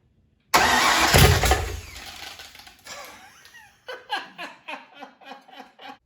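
A Factory Five Mk4 Shelby Cobra replica cranks loudly after a moment of silence and catches briefly, then sputters into a run of separate pops and revs that trail off in short bursts.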